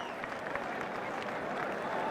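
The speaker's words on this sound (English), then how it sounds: "Good applause from their teammates" Crowd applause at a one-day international cricket match between India and Australia, greeting Shane Watson's fifty; steady, dense clapping from a large crowd that holds at an even level throughout.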